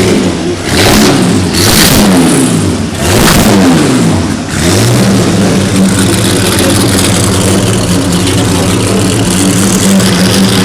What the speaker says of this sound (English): Bugatti.